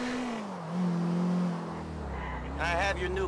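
A car being driven in the video game GTA IV, its engine droning steadily and rising in pitch as it accelerates, with a voice briefly heard over it near the end.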